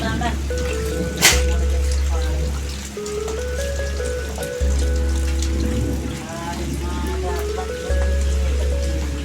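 Rain falling steadily outdoors at night, a constant hiss of drops with a low mains-like hum beneath, while people talk intermittently over it.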